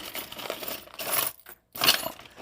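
A bunch of assorted keys, ancient, old and new, jingles and clinks in bursts of bright metallic rattling, with a short silent gap before another close shake.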